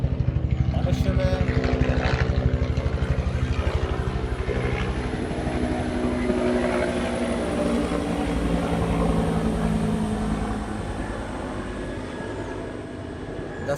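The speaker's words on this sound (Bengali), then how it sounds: "আমাদের উপর দিয়ে একটা হেলিকপ্টার গেল, সেজন্য আওয়াজটা আমরা বলতে পারতাছি না" A helicopter passes overhead, giving a loud continuous rotor roar with a steady pulsing beat that fades slightly as it moves off, heard in the open air.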